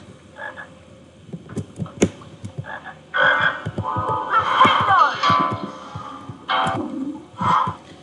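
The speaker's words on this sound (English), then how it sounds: "Give me another frog." Frogs croak in the Harry Potter and the Chamber of Secrets PC video game, with repeated throaty croaks and bursts of chatter at varying loudness over a soft rhythmic background pulse and occasional clicks. No one speaks.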